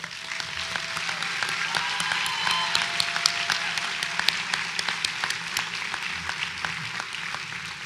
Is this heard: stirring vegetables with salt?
no